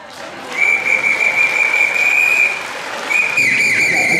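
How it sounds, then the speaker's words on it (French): An audience at an evening stage event applauds a guest, dense steady clapping rising quickly and holding, with a loud shrill whistle cutting through for most of the burst. "Je tiens qu'on applaudisse."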